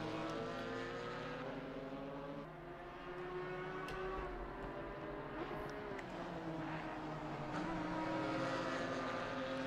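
GT4 race car engines in Assetto Corsa Competizione at Kyalami, a steady layered drone of several engines with shifting pitch bands throughout, moderately loud and continuous, no talk.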